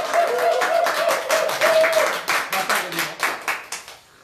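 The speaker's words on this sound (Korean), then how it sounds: "맞으면 박수 한번 쳐주세요" A small audience at an interview on Yeosu local issues claps. A steady burst of applause breaks into a few scattered, separate claps as it dies away, with a voice speaking over the start.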